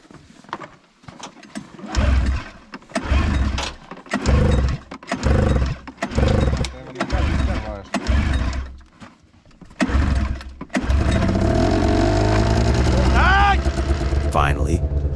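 An engine with freshly dried spark plugs cranks through a series of rhythmic, chugging starter bursts with short pauses between them. It finally catches and settles into a steady running drone, and a voice is heard over it.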